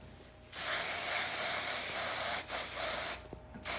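An aerosol can of hair fiber spray hisses in a long steady burst, pauses briefly, then sprays again in two shorter bursts, close and clear.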